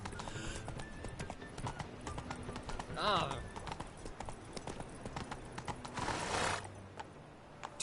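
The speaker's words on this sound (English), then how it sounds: "Whoa there, Roach" Horse hooves clip-clop at a steady trot in The Witcher 3, with a neigh or whinny breaking in, all set under game ambience and a voice giving commands to the horse.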